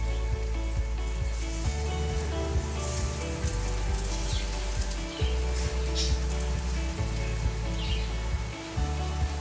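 Sliced banana (kele kaap) fries in oil in a pan over a low flame, a steady close sizzle with fine crackling spattering that continues throughout, under a low background hum.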